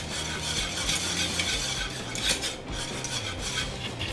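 A utensil stirs sweet and sour sauce in a pan as it thickens, giving a steady scraping and sloshing with soft clinks against the pan, close and quiet, with no voices.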